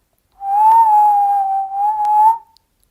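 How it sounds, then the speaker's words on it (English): A steady, tuneful whistle holds one wavering pitch for about two seconds, loud and close, with a brief dip midway and no talking over it. "There was a strange whistling and it seemed very familiar."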